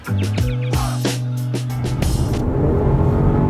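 A BMW X3 SUV drives and downshifts rapidly. The engine note drops in steps and its harmonics shift, then broadband road and engine rumble rises as it pulls.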